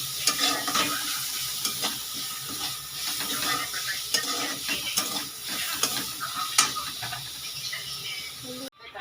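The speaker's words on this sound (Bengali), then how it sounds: "ভালো করে এটা ভেজে নেব।" Two kinds of vegetables fry in a pan for soup, giving a steady close sizzle with repeated scraping stirs and clinks throughout before cutting off at the end.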